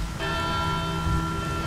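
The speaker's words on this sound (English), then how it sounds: "there's a bell on that weather vane" A bell on a weather vane in Resident Evil 6 rings with a sustained metallic tone and long lingering overtones over steady rain-like noise, loud and continuous with no talk.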